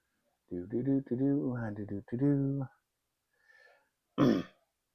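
A single short, close throat clearing or cough comes after a stretch of speech, then a pause.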